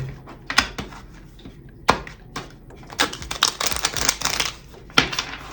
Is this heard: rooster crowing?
no